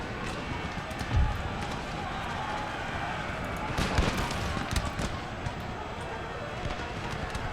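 Cavalry horses gallop across a battlefield in the strategy game Empire: Total War, a rumbling hoofbeat texture running steadily under other battle noise, with a few sharper thuds and bangs scattered through.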